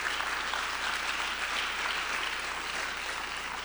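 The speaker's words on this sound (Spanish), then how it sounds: "Dale un fuerte aplauso a Jesucristo." A church congregation applauds during a midweek Bible study on Revelation, steady dense clapping from a crowd with no pauses.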